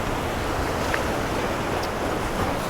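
Sea surf washes over coastal rocks in a continuous broad, hissing roar, loud and close, with wind buffeting the microphone.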